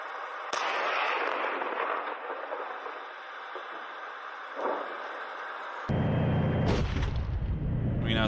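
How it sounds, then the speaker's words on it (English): Russian T72B3 tank in a field firing its main gun: sharp blasts at the start and midway with a long rumbling roar, then a louder, closer boom and heavy rumble near the end. "Now we can see a T72B3 in the distance, apparently operated by the LPR, now advancing through the field and firing as well."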